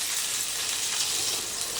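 Onion sizzling in oil in a wok for a spicy egg curry, a steady soft hiss of frying with no talk.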